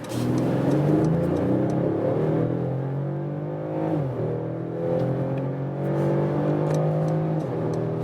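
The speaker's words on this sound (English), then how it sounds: "We accelerate from 30 kilometers an hour to whatever." A Mercedes E-Class All-Terrain wagon, 2021 facelift, accelerates hard from about 30 km/h onto a motorway. Its engine note climbs steadily and stays loud and continuous through a gear change, with no talk over it.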